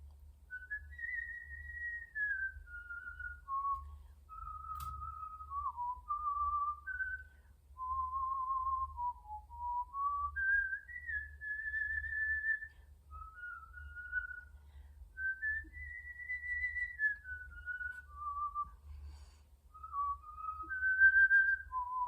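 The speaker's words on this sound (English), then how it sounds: "I whistle." A person whistles a wandering, continuous melody while working an ancient Athenian-style loom; the clear tune rises and falls steadily over a faint low rumble, with no talking.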